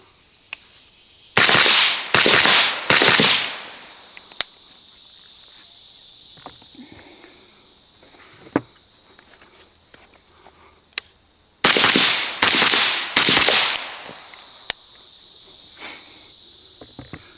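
A rifle fires 5.56 XM193 ammunition through a Ridgeback Defense Rhodie 6 muzzle device: two strings of three loud, sharp shots in quick succession, separated by a long quiet stretch with faint clicks and handling noises.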